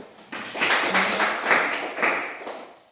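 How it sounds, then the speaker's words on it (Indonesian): Applause from a classroom group, a steady patter of clapping hands lasting a few seconds, fairly close and moderately loud. "tepuk tangan dulu"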